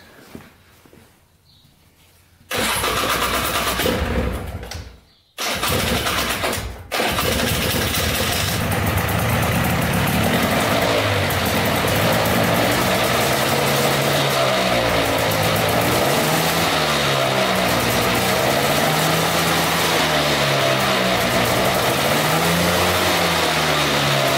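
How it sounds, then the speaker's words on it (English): An old plowing ATV engine cranks, sputters, then catches and holds a loud, steady idle, its pitch wavering as the throttle rises and falls. "now we're going to start it up and rev it up and see what happens"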